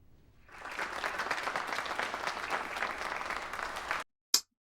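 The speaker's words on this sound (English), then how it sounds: "A little bit more of an applause now." Senators in the Roman Senate break into sustained applause, a dense, even wash of many clapping hands that swells in quickly, holds steady for several seconds, then cuts off abruptly, followed by one brief isolated noise.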